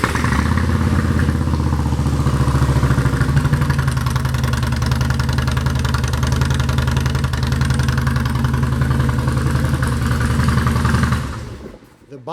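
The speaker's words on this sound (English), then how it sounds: "In a minute I'll show you the Vance & Hines pipes. For now we'll listen to them" A 2016 Harley-Davidson Softail Slim with about 9,000 miles and loud Vance & Hines exhaust pipes, baffles apparently removed, idles close by in a steady, deep, lumpy rumble for about eleven seconds before cutting off abruptly.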